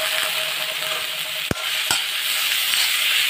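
Onions sautéing in coconut oil in a pan for a bottle gourd masala curry, giving a steady sizzle with two sharp utensil knocks against the pan midway, close and fairly loud.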